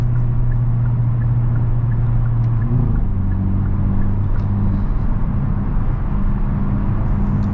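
A 2023 Hyundai Elantra N driving in N custom mode with stiff suspension, heard from the cabin as a loud, continuous engine and road rumble with a low engine drone that shifts pitch midway, with no voices.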